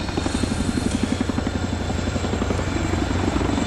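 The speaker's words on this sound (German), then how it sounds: "wie schnell der Hubschrauber auf der Stelle drehen und halten kann" A Boeing Chinook HC4A twin-rotor helicopter of the Royal Air Force roars steadily nearby during a flying display at an air show, its rotors beating in a fast, rhythmic chop beneath a constant engine drone.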